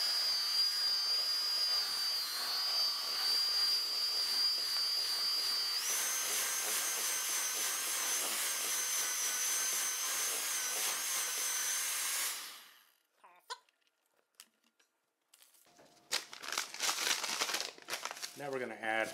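Electric mixer creaming peanut butter and honey together, a loud steady high whine that shifts pitch partway through, then cuts off, followed by short bursts of whirring and scraping.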